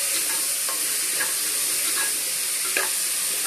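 Onions sautéing in a pan for a double butter bean masala, a steady close sizzle with occasional light stirring scrapes, no voices.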